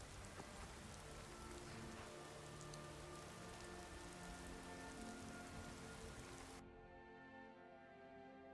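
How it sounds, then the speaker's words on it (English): Steady, dense rainfall in a Skyrim game scene, a constant hiss of drops on surfaces that cuts off abruptly near the end, leaving only a faint low background. "This rain will stop eventually."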